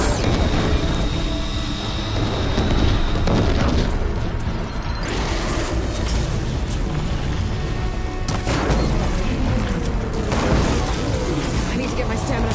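Booming cannon fire in the video game Horizon Forbidden West, heavy blasts and bursts rolling over dense, loud game noise with a voice talking through it.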